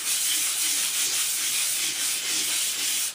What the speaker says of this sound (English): So we're just going to start off by sanding the surface here.